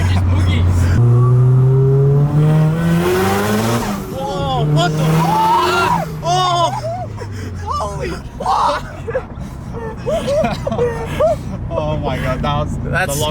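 A built Nissan S15 making 457 hp revs hard, its engine note climbing steadily for a few seconds. Excited voices then talk and shout over the fading engine noise.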